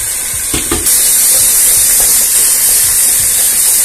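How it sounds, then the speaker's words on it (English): Steady loud sizzling hiss of ground egusi seeds frying in a hot pan, continuous and close, with a few faint clinks early on. "So the egusi is frying."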